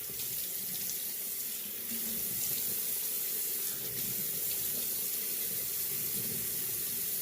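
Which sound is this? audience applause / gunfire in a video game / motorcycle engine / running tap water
running tap water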